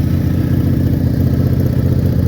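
A Benelli six-cylinder motorcycle engine warms up at idle, giving a steady, close, even low rumble with a busy mechanical clatter over it and no voices.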